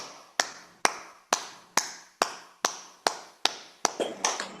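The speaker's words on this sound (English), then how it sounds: "And now let's start clapping our hands, because clapping also is very good. So just keep clapping." Steady hand claps from a group session, about ten sharp even beats roughly half a second apart, close and alone with no talking, the last few slightly ragged and doubled.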